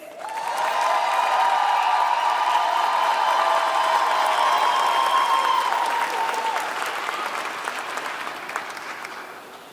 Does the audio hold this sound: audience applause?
yes